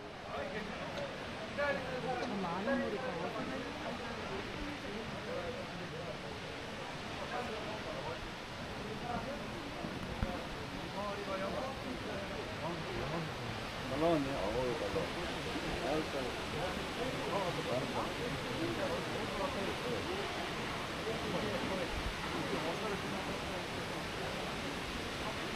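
Nachi Falls in Kii-Katsuura, Japan, heard from the base as a steady broadband roar of falling water, continuous and even, with someone talking over it.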